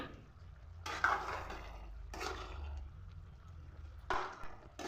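Chicken curry with ginger garlic paste and turmeric being stirred in a pot, three soft scraping, swishing strokes with quiet gaps between them, faint and close.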